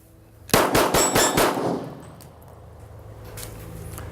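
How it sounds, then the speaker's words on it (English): At a gun range, about five shots are fired as fast as possible. The sharp, loud reports come in a quick burst, then the sound falls back to quiet background. "So this first round is going to be 4 or 5 shots, about as quick as I can shoot."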